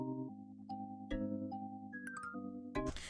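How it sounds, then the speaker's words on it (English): A programmed beat of chords and percussion made in FL Studio with a smooth square tremolo effect at a low mix, bouncing steadily with a brief noisy swell at the end. "It's the smooth quare tremolo and the modulation,"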